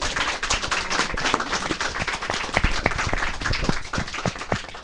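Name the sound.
audience applause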